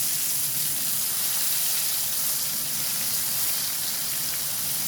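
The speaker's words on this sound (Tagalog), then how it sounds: "Kumukulo-kulo talaga. Sa sobrang init." Steady, dense sizzling and crackling of hot oil bubbling in a frying pan for fried chicken, continuous and close with no voices.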